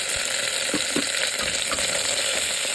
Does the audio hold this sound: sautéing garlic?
yes